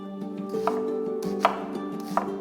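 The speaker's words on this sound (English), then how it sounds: "One red onion, diced." A knife dices a red onion on a board, three sharp chopping knocks spaced out over a low steady hum, close and clear, with no talking.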